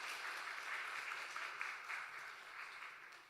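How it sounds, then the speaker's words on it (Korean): A church congregation claps in welcome during a Sunday worship service, a soft, steady wash of many hands heard from a distance, fading slightly toward the end. "우리 박수로 환영하도록 하겠습니다."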